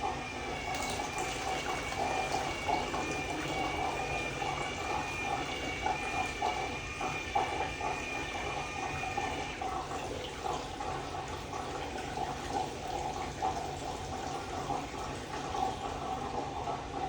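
Liquid from an AGO processor trickles and gurgles as it is poured back into a bottle, a soft continuous filling sound heard up close.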